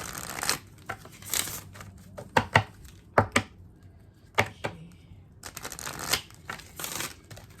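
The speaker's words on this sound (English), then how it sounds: "I did see it as I was shuffling" A deck of tarot cards is shuffled by hand, giving several bursts of riffling and soft slaps with brief pauses between them and no voices.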